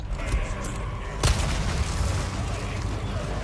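Gunfire in the Resident Evil 4 Remake game: a sharp, loud boom near the middle, set against a dense, rumbling action-game background with scattered smaller pops.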